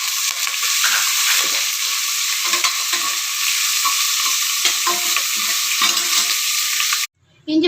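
Thinly sliced onions and green chillies sauté with rock salt in a pan of mutton biryani masala. A dense, continuous sizzle runs under scraping stir strokes, then cuts off abruptly near the end.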